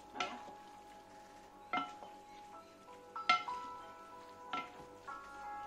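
Kefteji ingredients being mixed together in a bowl, with a few sharp clinks of a utensil against the dish, each followed by a ringing tone, loud and close with quiet pauses between them.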